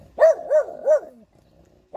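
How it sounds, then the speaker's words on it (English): Dog barking at puppies walking by in a garden, three loud, close barks in quick succession, followed by a short pause and the start of another bark. "Who are you barking at?"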